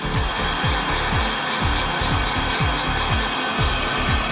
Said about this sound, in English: I'm hitting it with a heat gun this time to dry it out